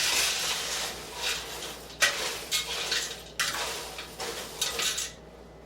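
Ingredients are mixed in a bowl with quick, repeated scraping and clinking strokes, a steady close churning rhythm that comes in several bursts.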